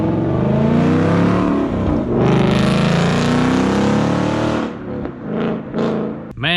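A 2017 Ford Mustang GT with a Valvetronics Armytrix exhaust revs hard and loud up close, a sustained roar that rises and falls. It then drops into a few shorter throttle blips, alone with no talk.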